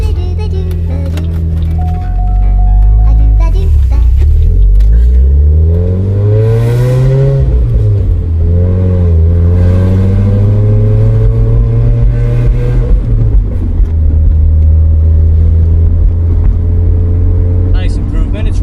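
A Chevrolet Cobalt SS on a test drive after new rear shocks were fitted, its engine droning loud and close inside the cabin, rising and falling in pitch as it accelerates and shifts.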